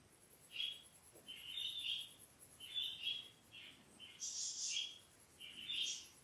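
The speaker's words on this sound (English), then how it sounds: "Do you hear my birds?" Pet birds in a room chirping in quick, bright bursts of repeated tweets, fairly faint and alone against a quiet background hiss.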